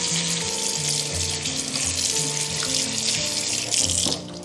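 Soaked pickled mustard greens rinsed under a running kitchen tap, a steady continuous gush of water splashing into a sink with light shifting splatter, close and fairly loud, no talk.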